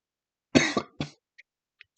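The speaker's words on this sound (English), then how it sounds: "Sorry, my bad for coughing." Two sharp coughs close together, followed by a couple of faint small clicks in an otherwise quiet room.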